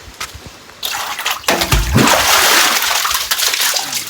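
Stream water splashes and gushes near a tribal village in Seethampeta, a sudden loud rush of pouring and splattering after a few quieter drips.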